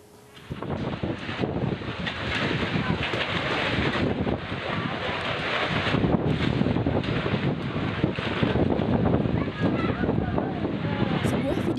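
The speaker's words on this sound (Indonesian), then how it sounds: "angin kencang merusak tenda tempat pemungutan suara di Kecamatan Marusumaro, Sulawesi Selatan" Strong wind buffets polling station tents in Marusumaro district, South Sulawesi, during heavy rain, roaring steadily and loudly into the microphone with gusty rumble throughout.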